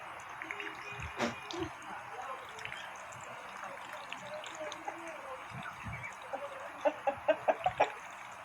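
Native chickens cluck and chatter in a backyard, with a quick burst of rapid clucks near the end, over a low outdoor background.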